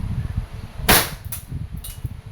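A WE airsoft Glock 17 Gen 3 gas blowback pistol fires three sharp, loud pops spaced unevenly, each with a brief slide clack, over a steady low background rumble.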